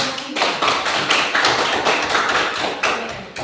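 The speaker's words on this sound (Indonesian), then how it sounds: "Kita berikan tepuk tangan untuk kelompok 3." A classroom of students claps for a presenting student group, a steady, close patter of many hands with uneven bursts lasting several seconds, no voices over it.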